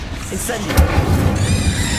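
Incendio fire spell cast in the video game Hogwarts Legacy, a short burst of whooshing flame with a heavy low boom, then a bright crackling hiss trailing off over about two seconds.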